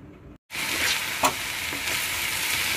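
Squeezed brinjal pieces fry in hot oil in a pan, giving a steady, close hiss of sizzling after a brief gap of silence, with a light scrape of stirring partway through.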